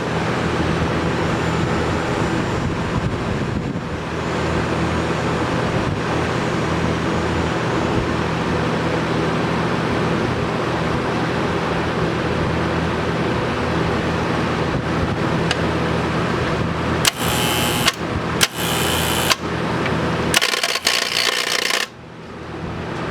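A TIG welder machine hums with a steady, dense mechanical drone, then a few sharp clicks and bursts near the end as it is switched off and the noise drops away.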